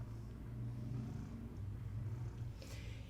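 A black cat purrs steadily and softly close by for several seconds, a low continuous rumble with faint handling noise near the end.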